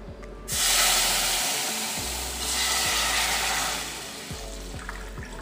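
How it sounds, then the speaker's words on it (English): Vegetable broth poured into a pan while making lumpiang sariwa: a steady, fairly loud watery rush that lasts about four seconds over a low background hum, then tapers off. "ilagay na natin yung ating sabaw sa pan."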